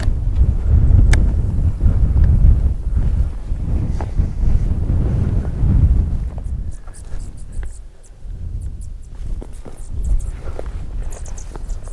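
Wind gusting outdoors during a night pig hunt, a steady low rumble buffeting the microphone that is strong at first, then eases into lighter gusts with faint high chirps in the background.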